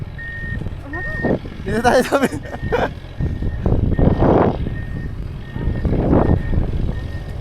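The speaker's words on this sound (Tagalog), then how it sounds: "Ay, may truck." A truck's reversing alarm beeps steadily at an even pace on a road under repair, the tone repeating throughout while people talk nearby and a dog barks in the background.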